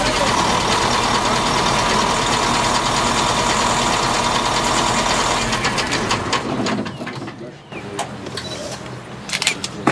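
A powerful heavy vehicle engine, a Kamaz truck or multifunctional tractor, runs loud and steady up close, then quiets and turns uneven with scattered clicks and knocks near the end.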